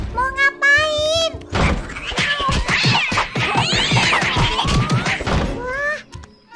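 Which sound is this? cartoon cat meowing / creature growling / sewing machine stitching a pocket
cartoon cat meowing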